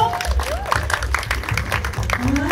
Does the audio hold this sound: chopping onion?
no